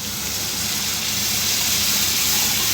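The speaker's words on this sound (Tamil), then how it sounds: "வதக்கிட்டு இது கூடவே நம்ம தண்ணி சேர்த்துக்கலாம்." Water pouring into a Tamil curry (kuzhambu) of masala vada in a pan, with turmeric powder, a steady broadband gushing hiss lasting throughout, loud and close, with no talk.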